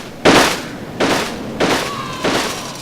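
Loud, gunshot-like pops of balloons in Roller Coaster Tycoon 3, three sharp bursts spaced unevenly about half a second apart, each decaying quickly, with a faint tone trailing the last.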